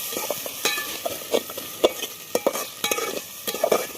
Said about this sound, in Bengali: কিছুক্ষণ নাড়াচাড়া করবো